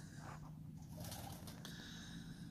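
Soft pigeon cooing over a steady low background hum, with a faint higher bird call partway through; fairly quiet and distant, in a farmyard in the morning.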